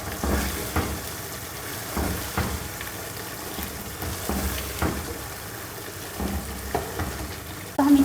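Bay leaf, cardamom, cloves and cinnamon fry in hot oil for chicken korma, a constant close sizzle punctuated by regular scraping stirs and light knocks of a spoon against the pot, no voices.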